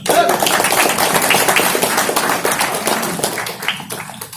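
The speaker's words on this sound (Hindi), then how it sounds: "कीवा इंडिया ग्रुप के सभी चेयरमैन के लिए तालियां जोरदार एक बार।" Audience applause at a company group meeting in Kolkata, a dense, steady burst of many hands clapping that carries for several seconds before tapering slightly.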